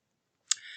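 A single sharp computer mouse click, close and clean, with a faint ringing tail after it in an otherwise quiet room.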